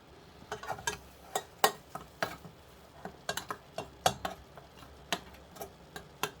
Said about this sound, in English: Have to make sure we mix it all.